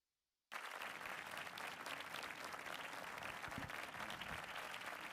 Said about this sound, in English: Is that a round of applause I hear?